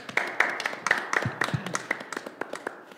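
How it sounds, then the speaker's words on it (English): A church congregation claps during worship, with scattered, distinct handclaps close by, irregular rather than a full roar, and a few voices and cheers mixed in. "Everyone, jazz hands and clapping."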